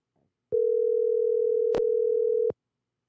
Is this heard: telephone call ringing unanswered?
yes